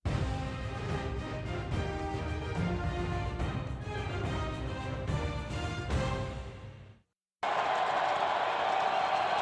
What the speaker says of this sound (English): The crowd trying to spur the Titan defense.